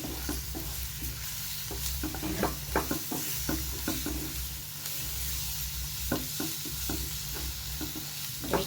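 Mint and coriander fry in ginger-garlic paste for a Telugu-style mutton curry, a soft steady sizzle under repeated scraping clicks of a spoon stirring the pan, fairly quiet and close.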